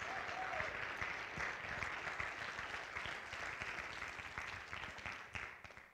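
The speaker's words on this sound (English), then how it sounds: "Why don't you guys give them a big round of applause?" A church congregation applauding, steady and fairly soft clapping from many hands heard from a distance, gradually thinning out toward the end.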